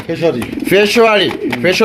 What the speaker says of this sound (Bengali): এখানে রয়েছে চমৎকার দুইটা কবুতর মার্শাল